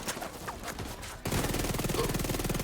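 Submachine gun fire in The Division 2 video game: after a quieter stretch of scattered sounds, a loud, rapid, evenly spaced stream of shots runs continuously to the end.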